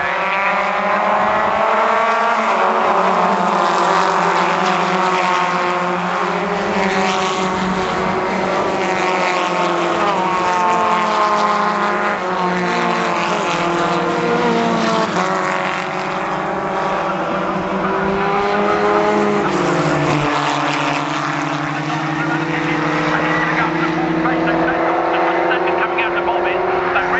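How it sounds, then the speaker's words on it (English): Formula Ford 1600 race cars roar past at Castle Combe circuit, a continuous loud engine drone with shifting pitch as cars chase through the corners, under steady race commentary. "He's third, a chasing car coming out of Tower Bend, but on the way into the S's, it had to defend with gritted teeth there, Andrew Jones."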